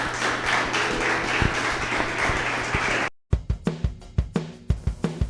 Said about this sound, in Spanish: Demos una ofrenda de aplausos al Señor